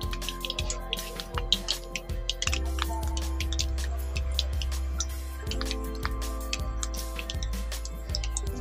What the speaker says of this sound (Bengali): এই দেখুন, আস্তে আস্তে করে বুজবুজ করছে